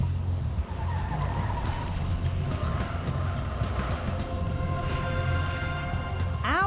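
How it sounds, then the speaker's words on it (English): Cars race laps around a swampy pond in a wetland course, engines rumbling steadily as tires skid and squeal, with a sharp screech near the end. "How about cars making laps around this pond looking for the shortest time?"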